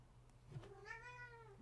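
A cat gives a single drawn-out meow indoors, rising and then sliding down in pitch, fairly clear against a quiet background hum.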